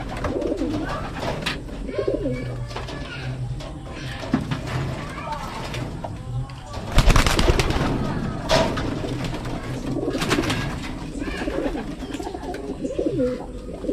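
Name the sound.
racing pigeons cooing before a toss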